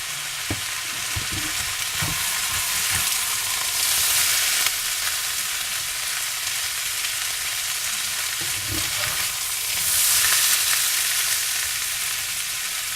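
Two potatoes frying in a crowded skillet, a loud, continuous hissing sizzle with occasional scraping stirs and louder surges of spatter, with no talking.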